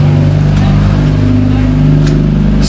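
A Toyota Fortuner's engine runs close and loud, a strong steady idle with a constant low drone and faint tonal whine while it warms up after sitting unused.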